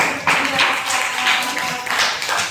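Clapping from a classroom audience, a dense burst of many hands lasting a couple of seconds, fairly loud and close with no one talking over it.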